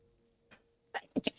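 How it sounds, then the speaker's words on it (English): A short, sharp sneeze near the end, a quick catch of breath then a burst, in an otherwise quiet room with faint hum. "I sneezed."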